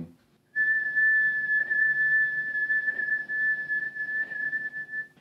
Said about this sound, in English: If you're able to tongue and have the whistle keep going,